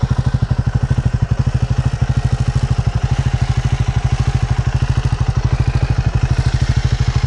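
A 2024 Triumph Scrambler 400X single-cylinder motorcycle engine runs with a loud, steady, rapid thumping pulse, close and continuous with no talk.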